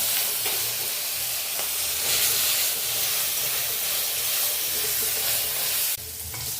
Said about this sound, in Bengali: সর্ষের তেল দেবো। চিংড়ি মাছটা ভেজে নেব।